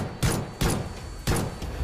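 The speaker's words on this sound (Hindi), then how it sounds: "इस दौरान उसने कई राउंड गांव के अंदर फायरिंग कर दहशत कायम कर दी।" Several gunfire rounds fired inside a village, three or four sharp bursts at irregular intervals, fairly close, with no voices.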